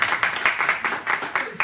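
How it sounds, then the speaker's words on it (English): Brief, fairly close clapping from a small audience at a morning talk, a quick run of uneven hand claps for a volunteer with a voice mixed in. "Round of applause to Paul."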